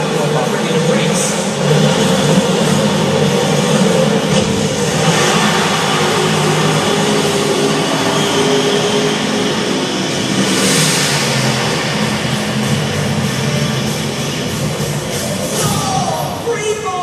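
Race car engines rev and roar at the starting line in the Disney Infinity video game, a dense, loud, continuous blend of engine noise and game sound with possible shouts throughout.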